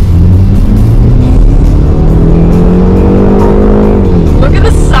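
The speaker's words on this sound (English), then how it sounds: "You just want to put all your money down just for the sound of this engine." Engine of a 2024 BMW 5-Series long-wheelbase sedan revving steadily, loud and close, with a rising and falling harmonic drone over about five seconds and a few brief sharper tones near the end.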